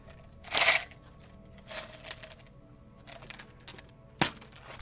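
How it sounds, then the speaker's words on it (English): Close ASMR-style gum chewing with a few wet smacks and crackles spread across a few seconds, separated by quieter mouth sounds; no talk. "Just Peter Griffin chewing gum"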